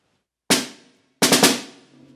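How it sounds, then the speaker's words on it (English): Snare drum playing the opening rhythmic figure of the TMEA All-State etude: a single sharp stroke, a pause, then a quick cluster of three crisp strokes, close and loud in a quiet room with a short ringing decay. "an example of a rudiment, quote unquote, would be, I would say, the opening rhythmic gesture."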